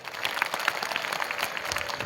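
A crowd at a speech in a sports complex claps steadily for a couple of seconds, a dense, even patter of hands with no voices over it.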